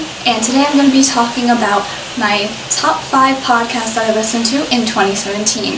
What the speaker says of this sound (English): somebody has to vacuum. I apologize for the noise.